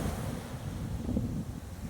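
Ocean waves break on the shore in a steady, rumbling roar with heavy wind buffeting the microphone, continuous for about two seconds with no voices.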